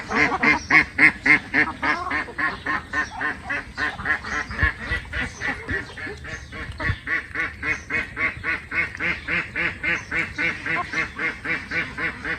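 Chinese ducks at feeding time on a village morning quack loudly and nearly nonstop in a fast, rhythmic chorus, close by, with occasional thuds underneath.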